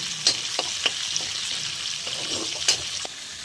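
Bay leaf and cumin seeds sizzle in hot oil, a steady close frying hiss broken by sharp crackles and pops as the spices hit the pan.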